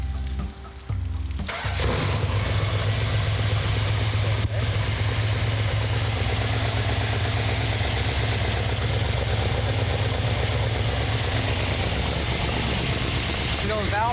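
A Plymouth 'Cuda convertible's engine cranks and fires, then settles into a loud, steady idle close by, holding a continuous rumble for the rest of the clip.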